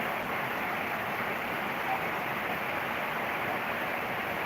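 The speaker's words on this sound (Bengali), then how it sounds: "অনেক জোরে বৃষ্টি নামছে" Heavy rain pours down in a dense, steady roar of hiss that never lets up, with no voices.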